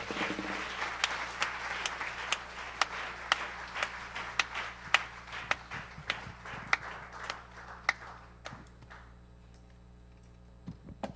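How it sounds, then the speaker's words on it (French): A congregation at a church service claps with loud, distinct individual hand claps that start dense, thin out to scattered claps, and end in near quiet. "Donne une bonne main d'acclamation"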